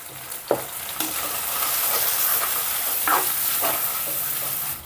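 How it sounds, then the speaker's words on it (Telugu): Masala paste with a pinch of turmeric frying on a low flame for a broad bean and tomato curry: a constant hissing sizzle with a few sharp stirring scrapes, close up and without speech. "ఒక రెండు నిమిషాల పాటు స్టవ్ని సిమ్లో పెట్టుకొని ఈ మసాలాని ఫ్రై చేసుకుందాం"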